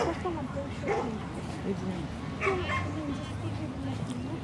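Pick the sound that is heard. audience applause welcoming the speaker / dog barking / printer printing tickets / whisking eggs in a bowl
dog barking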